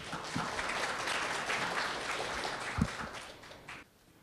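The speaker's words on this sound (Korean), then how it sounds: "박수 부탁드리겠습니다." Audience applause at a Korean technical forum on LTE-Advanced measurement, a broad wash of clapping that runs steadily at moderate level and fades out near the end.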